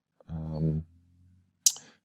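A single sharp computer mouse click near the end, following a brief low voiced sound, while saving a frame in compositing software.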